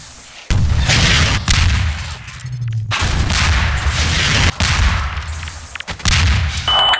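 RPG rockets firing and exploding in a Half-Life 2 Deathmatch match, loud repeated booming blasts and metallic clangs in quick succession, close and dense without speech.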